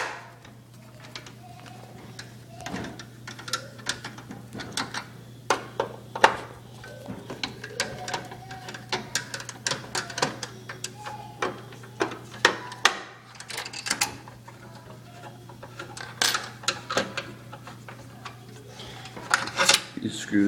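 Screws being removed from the plastic casing of an Xbox 360 console, heard as scattered close clicks, ticks and small scraping handling noises in an irregular rhythm over a steady low hum, with a voice speaking at times.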